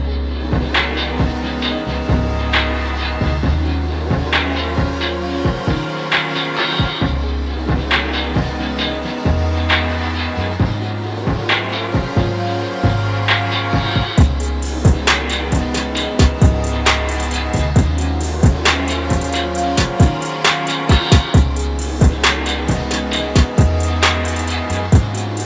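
Full beat built from piano sounds processed with the Tape Piano 2 plugin, looping warm warbling keys over a deep bass and punchy drums with crisp hi-hats entering midway, steady rhythmic groove, loud throughout.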